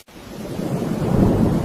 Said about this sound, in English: Yes, it is raining quite heavily.